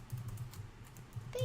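Quick, light keystrokes tapped on a computer keyboard while editing text in WordPress, a soft close patter heard alone.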